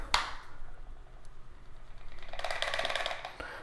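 A fixed blade knife shifting in its injection-molded sheath gives a quiet rattle: a soft click near the start, then a denser run of small metallic clatters and ticks building in the second half, faint and close.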